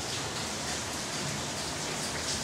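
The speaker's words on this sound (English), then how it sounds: "It's been raining for probably about the past 3 hours or so" Steady rain falls outside onto a soaked patio in Florida, a soft, even wash of hiss with no breaks, fairly faint and uninterrupted by talk.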